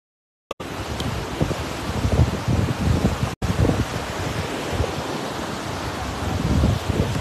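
Surf and wind at the beach at Playa del Ingles make a steady, rushing broadband wash, with gusty microphone buffeting and swelling waves, a brief dropout midway and no speech.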